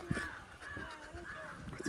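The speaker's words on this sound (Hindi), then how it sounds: "तो ये है कौवे" Crows cawing at a zoo in Darjeeling, a few faint harsh caws repeating in quick succession against quiet outdoor ambience.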